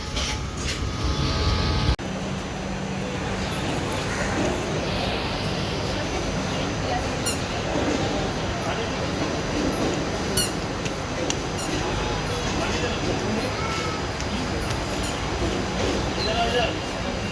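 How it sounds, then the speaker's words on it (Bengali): A train rumbles and clanks as it departs a station two hours late, with occasional squeaks and metallic creaks, and people talking nearby in the background. "পাক্কা দু ঘন্টা লেটের পর আমাদের এখন ট্রেন ছাড়ল"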